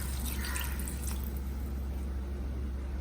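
Water collected from turai (ridge gourd) pours into a cooking pot for a Gujarati sabzi, a brief splashing trickle at first that fades into a steady low background hum.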